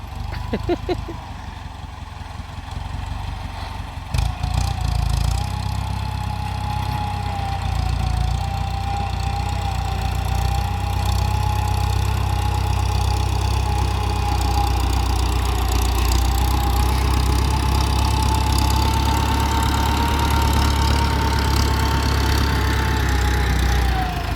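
A large Ford tractor engine idles steadily with a deep, rumbling drone, close by and continuous, after a brief clunk near the start.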